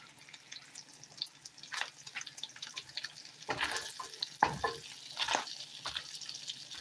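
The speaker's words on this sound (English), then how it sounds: "Bacon is one thing you have to keep moving around" Bacon sizzles and crackles in a frying pan while being stirred and moved around, with scraping, clinking utensil sounds rising in the second half over a steady hiss.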